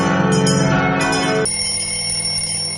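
A bright bell rings out loudly in a radio advert, a few quick strikes up front and then a long, clear ringing tone that sustains and slowly fades.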